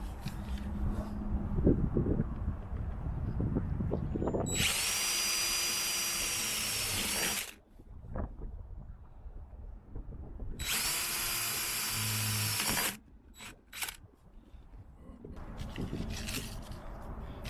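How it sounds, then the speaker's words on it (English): Power drill with a 3/16 drill bit boring holes for RV roof vent covers, two sustained loud whining bursts of several seconds each, separated by quieter handling noise and clatter. "I'm gonna go ahead and drill those now."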